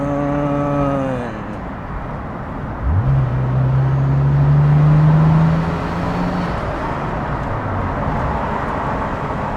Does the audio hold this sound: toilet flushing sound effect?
no